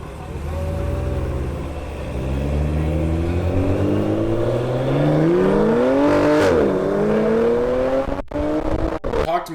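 A BMW car engine revs up close and loud, its pitch climbing in a long sweep and peaking before dropping back and cutting off into a few sharp knocks.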